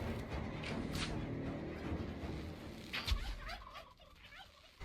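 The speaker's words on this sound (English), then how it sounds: "What are these turkeys? Why don't they die? Jesus Christ! Devil turkeys." Super Turkeys gobbling in ARK: Survival Evolved, several warbling gobble bursts near the end over low game rumble and a thump, moderately loud, no talk.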